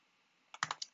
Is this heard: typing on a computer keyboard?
yes